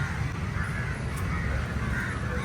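Crows cawing around their nest tree in a traffic park, a dense, continuous chorus of overlapping caws close by with steady outdoor noise beneath.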